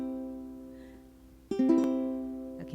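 A ukulele string plucked while pressed in the third space: a faint ringing note fades, then a fresh clear pluck sounds and sustains, close and alone.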